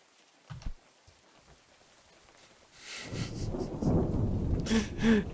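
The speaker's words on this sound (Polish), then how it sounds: "Dalej pada." Rain and thunder in the survival game Unturned: a quiet start with a faint low thud, then a swelling rush of rain and rolling thunder that grows louder and fills the last couple of seconds.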